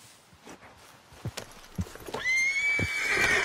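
A horse in the Red Dead Redemption 2 video game gives a loud whinny after a few scattered hoof clops, the neigh rising sharply and ringing out near the end.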